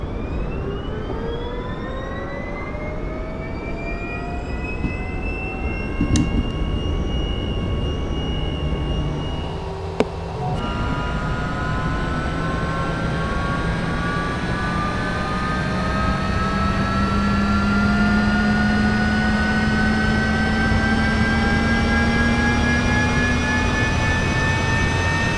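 Cessna Citation CJ3+ business jet engine spooling up in the MSFS 2024 flight simulator: a steady rising turbine whine with climbing tones, a couple of sharp clicks along the way, and a loud continuous roar building over time.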